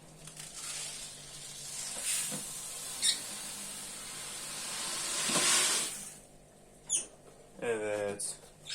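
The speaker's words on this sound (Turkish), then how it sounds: "Şu an ikinci kovayı döküyorum. Onu da sağ tarafa doğru dökeceğim." Plant substrate sand poured from a bucket into an aquarium, a long rushing hiss that swells and then stops, with brief clatters and a voice near the end.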